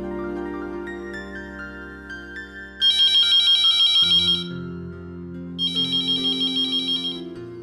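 A telephone ringtone plays a melodic electronic tune in a home setting, with two bright chirping bursts of ringing between its notes, fairly loud and close, with no talking.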